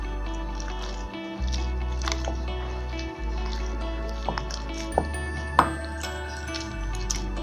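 Maida flour being mixed by hand with milk for pizza dough: soft, close squishy and sticky dabbing sounds at an uneven pace over a steady low hum, with no speech.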